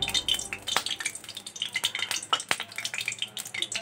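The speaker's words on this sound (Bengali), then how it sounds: "তেলটা ফুটে গেছে" Whole garam masala crackles in hot ghee and oil, giving a faint, close sputtering sizzle with light clinks of a spoon against the pot over a few seconds.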